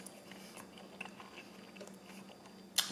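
Soft, close chewing of a mouthful of plant-based pad thai with tofu, vegan egg and noodles, quiet wet mastication over a low room hum, ending with a sharper crunch or bite.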